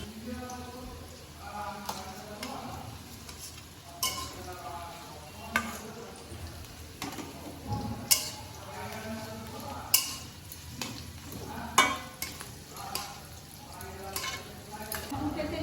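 Carrots and beans stir-fry in a pan with whole spices, a soft continuous sizzle broken by repeated clinks and scrapes of a spatula against the pan.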